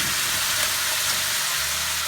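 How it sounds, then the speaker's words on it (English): Onions browning and caramelizing in a hot pan give off a loud, steady sizzle, a dense even hiss with no talking. "Tossing the onions around, kind of browning them up a little bit,"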